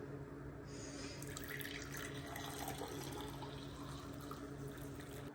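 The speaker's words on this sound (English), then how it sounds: "here's the herbal tea, and I'm going to put it in a cup" Bitter melon herbal tea is poured into a cup in one steady, unbroken stream of liquid, close and fairly quiet, lasting several seconds with no talking.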